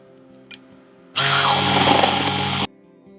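A hand mixer whips cooled wax in one steady burst of about a second and a half, loud and close, starting and stopping abruptly over a quiet humming room.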